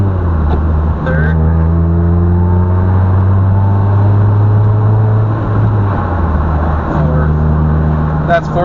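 A manual-transmission car is driven through the gears without using the clutch, its engine droning steadily with low harmonics that shift in pitch at each gear change, under intermittent talk.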